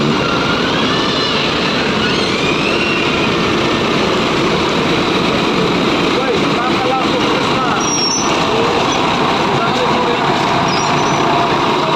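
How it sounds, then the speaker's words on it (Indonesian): A Makmur Royal Class Tronton bus departs a Pekanbaru bus terminal, its engine droning loud and steady throughout with continuous rumble and hiss, amid busy terminal noise and a voice speaking over it. "Dan diikuti oleh bus Makmur Royal Class set 21. Makmur Tronton."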